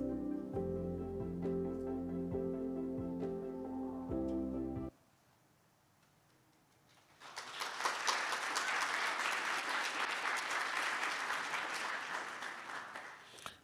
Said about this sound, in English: Thank you for clapping as I'm walking up.